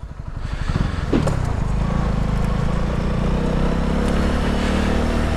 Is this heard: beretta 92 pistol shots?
no